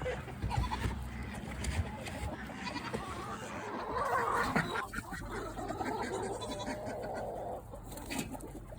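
Several baby goats bleat in a busy farmyard, their calls rising and overlapping near and far across the run and coop, with occasional chicken clucks mixed into the steady background.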